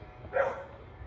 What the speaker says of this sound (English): There go the dogs again.